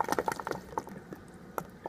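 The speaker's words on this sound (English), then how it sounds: "You hear it breaking siphon," Quiet gurgling and slurping from the rubber overflow hose of a Red Sea Max 250 aquarium as it breaks siphon, irregular liquid bubbles and sucks in short bursts, fairly close and faint.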